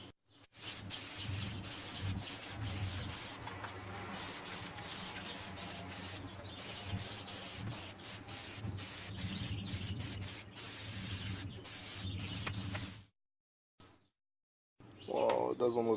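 Plasti Dip coating sprays onto car wheels in a long, steady hiss with brief pauses, close and continuous, before cutting to silence and then a short burst of other noise.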